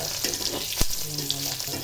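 Eggs sizzle in a pan with a soft, steady hiss, broken by a single sharp clink near the middle.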